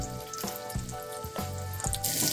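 Onions fry lightly in a pan for a Telugu amaranth-leaf curry, a close, steady sizzle with a few soft stirring scrapes and bumps.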